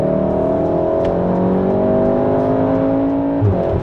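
Volkswagen Golf 7R in race mode with its Active Sound system producing a synthesized engine tone, a steady loud droning growl with rising harmonics as the engine pulls, close and continuous with no voices.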